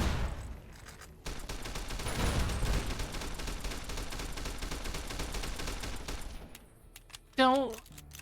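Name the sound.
gunshots in video game Fallout: New Vegas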